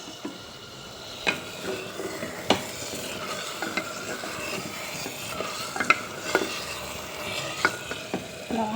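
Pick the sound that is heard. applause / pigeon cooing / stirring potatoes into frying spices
stirring potatoes into frying spices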